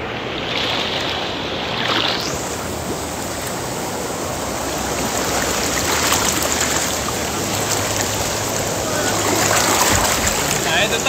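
Continuous rushing water of a waterfall, a steady broadband roar that stays loud and close throughout without pause.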